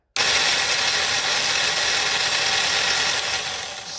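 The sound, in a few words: electric winch motor running, freewheeling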